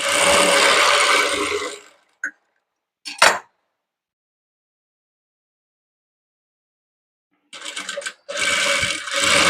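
A sewing machine stitches pieces of an old Kerala saree together, running in two close, steady bursts separated by a few seconds of quiet with only brief handling clicks.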